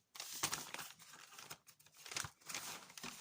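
Paper envelope from a parcel being handled and opened, crinkling and rustling in bursts, close and quiet.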